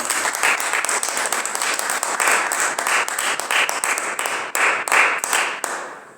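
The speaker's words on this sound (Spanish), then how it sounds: "Den un fuerte aplauso a nuestro Señor." A church congregation claps loudly and steadily during a worship service, many hands producing a dense, rhythmic patter that swells and dips briefly before fading at the end.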